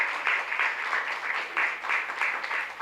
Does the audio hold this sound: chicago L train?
no